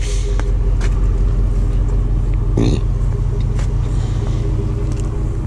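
A 2007 Chevy Impala SS engine idling while it warms up after having overheated on the highway, a steady low rumble heard close and loud, with a brief clunk partway through.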